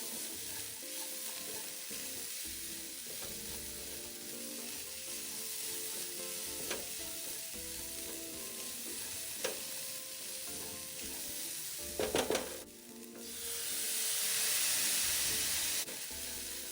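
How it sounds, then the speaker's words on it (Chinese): Taro filling ingredients hiss and crackle as they are stir-fried with seasonings in a pan, a steady low sizzle punctuated by scraping spatula strokes and a burst of steam near the end. "再将食材与调味料拌炒均匀"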